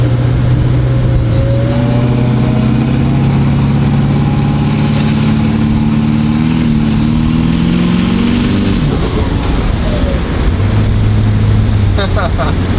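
A Duramax diesel truck fitted with a Valvetronic Designs 5-inch exhaust drives down an airstrip, its engine droning loud and steady as the pitch rises through gears and then settles.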